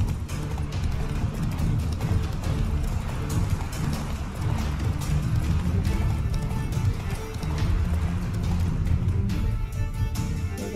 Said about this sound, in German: mein Pferd lahmt gerade so ein bisschen